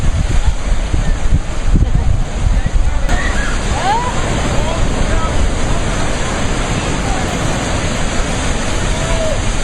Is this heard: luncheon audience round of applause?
no